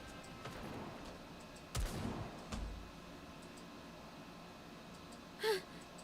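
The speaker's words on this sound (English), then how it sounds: "Those gunshots. I've heard them somewhere before." A few scattered gunshots from the video game Nikke, faint and sparse, with two or three muffled low bursts and one short sharp crack near the end, set against quiet background.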